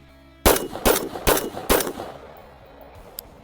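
A rifle fired from the armpit at night, four loud close gunshots in quick even succession, each with a sharp crack and brief echoing tail, then quiet.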